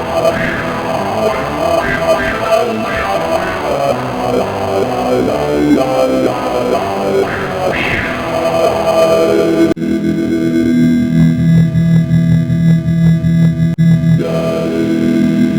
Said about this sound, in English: then we'll throw in a reverb, spring reverb